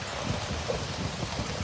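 Steady rain from Tropical Storm Elsa pours outdoors at a big cat rescue sanctuary. It makes an even, constant hiss with no break and no voices.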